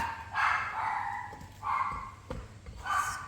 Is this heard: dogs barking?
yes